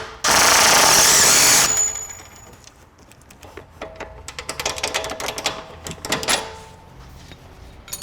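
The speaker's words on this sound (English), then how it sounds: "you can use a power tool to back this up" A loud burst of high-pitched power tool whirring for about a second and a half as it loosens a nut on a vehicle's suspension, then scattered metallic clinks and rattles.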